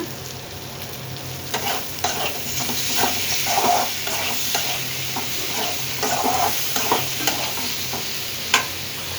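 Onion paste frying in a pan, a steady close sizzle broken by repeated scraping stirs of a spoon, with a sharper clack near the end, no voices.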